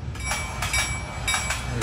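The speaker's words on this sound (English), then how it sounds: "And so the train is going by" A model train sound controller plays a train rolling steadily past, with rhythmic clickety-clack wheel beats and a continuous rumble, fairly close, no voices.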